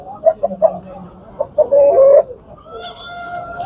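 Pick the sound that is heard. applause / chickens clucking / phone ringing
chickens clucking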